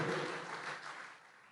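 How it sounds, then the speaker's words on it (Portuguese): A church congregation breaks into steady applause during a sermon, a dense wash of clapping that holds level and then fades slightly toward the end, with no voices over it. "Vamos aplaudir esse Senhor maravilhoso, que fez um sacrifício perfeito."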